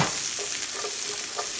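Onions given a rough sauté in a pan until lightly crisp, a dense continuous sizzle with soft stirring scrapes, close and steady throughout.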